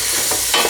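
Cubed sweet potato stirred into a pot of sweet and salty chickpea soup, a short, steady scrape and sloshing mix with a faint sizzle underneath and one slightly louder stir near the end.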